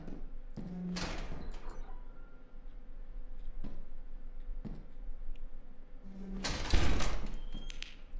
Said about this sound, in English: I heard a door open.